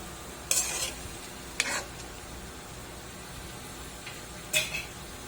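Chicken feet simmering in seasoned adobo in a pot, bubbling steadily at a low simmer, broken by three short scraping stirs or clinks against the pot.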